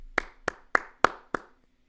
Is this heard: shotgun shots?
no